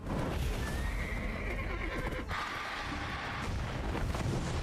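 A horse in a video game lets out a loud, drawn-out neigh lasting several seconds, with a wavering whinny over constant low rumbling noise and the thud of hooves.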